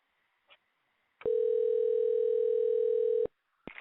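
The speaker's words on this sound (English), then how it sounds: "Well, we're ringing." One long, loud telephone ringback tone hums steadily for about two seconds on a live phone call, with faint clicks before it and a voice starting just after.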